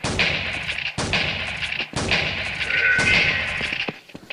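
Gunshots boom in the Cops N Robbers first-person shooter game, three or four heavy, evenly spaced blasts about a second apart, each with a short reverberant tail.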